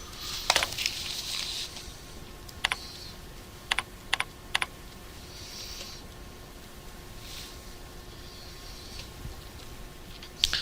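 Sparse keyboard clicks, a few isolated taps and a quick cluster of keystrokes, over a quiet steady background hum.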